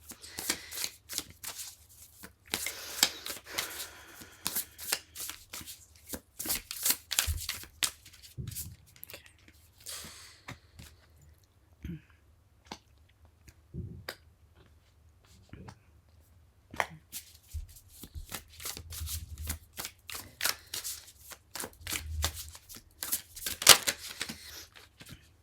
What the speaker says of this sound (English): I'm going to mix Oracle and Tarot cards to dive deeper into things here.